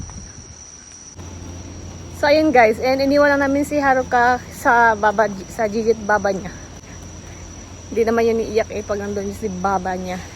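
A faint, steady high-pitched cricket chirring runs continuously beneath someone talking close by, outside a hotel near a river in Hakone, Japan.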